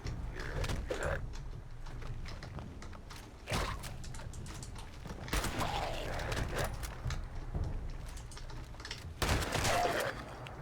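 Shotgun blasts from combat in the video game Fallout 76, a few sharp broadband reports at irregular intervals over steady game ambience and mechanical clatter, no talking.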